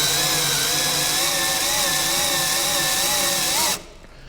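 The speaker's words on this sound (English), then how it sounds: "I've got the drill on the max setting. I guess it would be 22 on this DeWalt drill." A DeWalt drill runs at its maximum setting with a loud, steady high-pitched whine that wavers a little under load for nearly four seconds, then stops abruptly. No one speaks.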